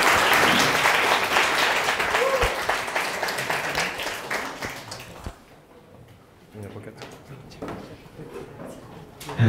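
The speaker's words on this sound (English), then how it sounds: "Please give Hessa a round of applause." Audience applause at a coding bootcamp demo day in Tokyo, dense and fairly loud for about five seconds, then thinning to scattered claps under a quieter room with some talk.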